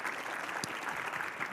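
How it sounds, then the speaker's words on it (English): An audience at a university research day keynote claps for students and organizers, a steady, moderately distant burst of applause from a full room. "let's give all the students, the organizers, and everybody involved in the event a big round of applause"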